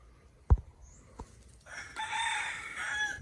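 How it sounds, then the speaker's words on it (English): A fighting-cock rooster at a house construction site in the Philippines crows loudly and close by, one sustained call that follows a couple of sharp knocks, with no one talking. "So here's our roosters."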